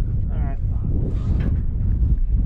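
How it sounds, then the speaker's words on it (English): Strong wind buffets the microphone outdoors at a racing venue, a steady low roar under brief talk. "It is very windy out here."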